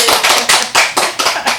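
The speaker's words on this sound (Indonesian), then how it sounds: "kita beri tepuk tangan dulu kepada Ibu Katina nih" Audience at an informal talk session clapping for a guest in a rhythmic unison pattern, about seven loud, evenly spaced bursts close by.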